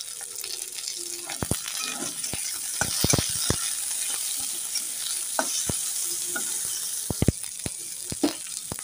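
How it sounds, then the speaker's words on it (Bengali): Pointed gourd pieces frying in a pan, with a steady close sizzle broken by sharp clacks and scrapes of stirring, and no talk. "এর মধ্যে একটু পটলগুলো দিয়ে দিচ্ছি। পটলগুলো একটু ভাজা ভাজা হয়ে যায়।"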